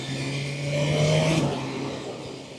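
A Suzuki GSX-8R motorcycle engine revs up under acceleration while a quick shifter works through gears, a steady mid-pitched drone that climbs and then eases, heard close and with no talking.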